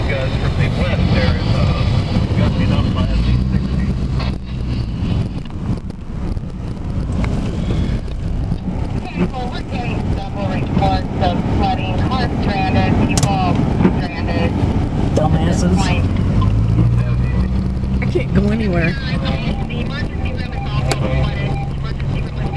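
Strong westerly wind gusts buffet the microphone during a hail storm with flooding in Norfolk, Nebraska, a loud continuous roar with people talking underneath.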